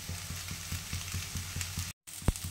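New potatoes and flat beans fry with onion in a pan with a steady, close sizzle and faint rhythmic stirring. A brief gap is followed by a single sharp knock of the utensil.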